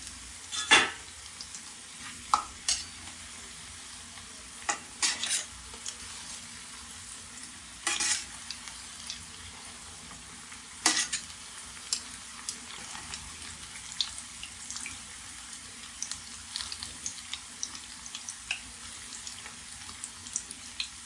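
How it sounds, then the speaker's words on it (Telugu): Black-eyed pea fritters (alasanda vada) cook in oil over a low flame, giving a quiet, steady background fizz broken by scattered sharp clicks and taps, close by and with no talk. "ఈ కలర్ వచ్చే వరకు అయితే నేను ఫ్రై చేసుకుంటాను"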